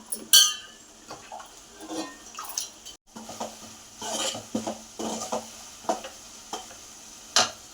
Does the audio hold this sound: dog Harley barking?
no